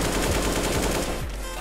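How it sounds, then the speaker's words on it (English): Rapid CS:GO gunfire as a player shoots a grenade out of midair, a dense, loud burst of automatic shots rattling steadily for over a second before easing off. "He just shot that nade in midair"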